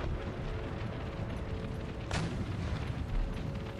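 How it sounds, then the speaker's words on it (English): A single distant artillery boom sounds in an Empire Total War battle against horsemen and dervishes, rising briefly over a steady wash of battlefield rumble. "artillery can engage their guns for now"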